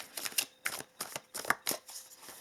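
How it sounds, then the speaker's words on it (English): Tarot cards shuffled by hand in a quiet room, a quick run of soft, papery flicks and riffles in uneven bursts, close and faint, with no voices. "let us then shuffle a little bit with some tarot cards here."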